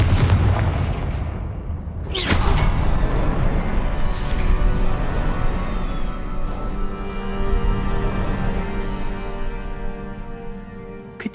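Confringo fire spell blasts going off in Hogwarts Legacy, a loud explosive burst near two seconds in followed by rumbling, crackling booms and sustained roaring that carry on without talk.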